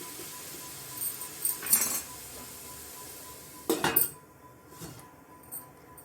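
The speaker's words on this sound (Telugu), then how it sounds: "ఇప్పుడు కొంచెం సేపు మూత పెట్టేద్దాం." A lid set on an AMC cookware pot while potatoes cook, two short metallic clanks close by with a faint clink afterward, set against a quiet kitchen.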